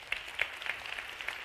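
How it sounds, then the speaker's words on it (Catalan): Short burst of audience applause for a magician's assistant at a paper-costume gala in Mollerussa, scattered claps heard faint and distant through a small hall. "un fort aplaudiment per ella"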